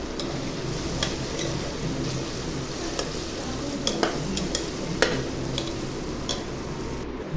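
Turmeric, red chilli and coriander powder being stirred into a sizzling frying mixture, with a constant hiss of oil and scattered light clicks of a spoon against the pan.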